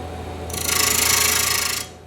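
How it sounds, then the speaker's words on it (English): A bowl gouge cuts a wooden lidded box turning on a lathe, a loud, even hissing shave lasting just over a second, rising sharply and then falling away against the low motor hum. "I'm using a bowl gouge here to do that"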